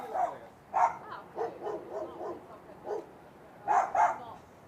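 Dogs bark on rooftops while fighting, several rough barks and yips arriving in irregular bursts at moderate distance, fairly faint with quiet gaps between them.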